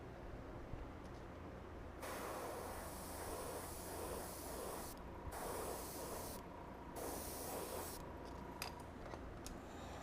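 Paint hisses from a spray nozzle onto a model starship nacelle on a 1:350 scale Enterprise refit, in several steady bursts separated by short pauses, close and alone.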